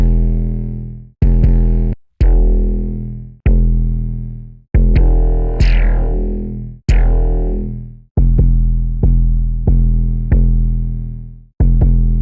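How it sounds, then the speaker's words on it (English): A heavily distorted, gritty synth or instrument, processed through a multi-effect distortion plugin, plays a series of sustained notes with sharp attacks, loud and saturated, with no talking. "Now we can just have it using this distortion here."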